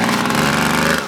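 Two-stroke JR80 pit bike engine revving nearby, a loud raspy buzzing whine held briefly before easing off slightly at the end.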